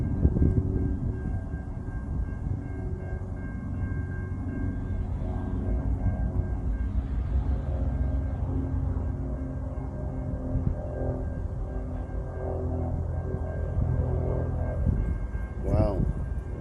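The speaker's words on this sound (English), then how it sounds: "So a train actually went by, and I guess we missed it." A train rolls past far off, a steady low rumble with faint tonal horn-like lines running under wind noise throughout, with a brief sharper sound near the end.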